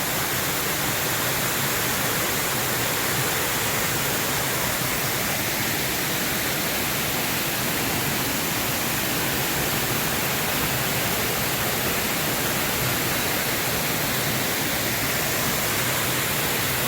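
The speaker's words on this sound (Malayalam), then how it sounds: "ശരിക്കും വട്ടമുട്ട മുകളിലുള്ള അടിപൊളി ഒരു വെള്ളച്ചാട്ടമാണ്" A waterfall in Vattavada roars steadily throughout, a dense, even rush of water falling from a height, with no pauses, close and loud.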